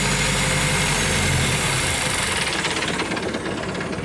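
A speedboat engine idles steadily at close range, a loud continuous low rumble with a rough, knocking texture and no voices over it.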